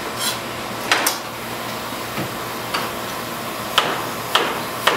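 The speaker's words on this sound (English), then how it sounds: "take my onion, cut it in half, remove the center" A knife knocks through an onion onto a cutting board in a home kitchen, giving a handful of sharp, separate taps spaced a second or so apart, close and clear against a quiet background.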